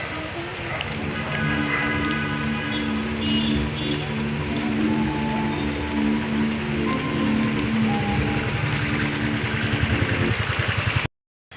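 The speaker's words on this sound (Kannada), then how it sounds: "ಬಟ್ ಮಳೆ ಬರ್ತಿದೆ ಫುಲ್ಲು." Heavy rain falls with a steady patter and wash. A mechanical droning hum with rhythmic ticking runs alongside it, and the sound cuts off abruptly near the end.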